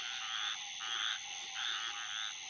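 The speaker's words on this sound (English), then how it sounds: "I can hear that there are some little grass frogs calling" Little grass frogs calling outdoors in South Carolina, a dense, continuous high trilling chorus pulsing in steady waves, moderately near, with no voices.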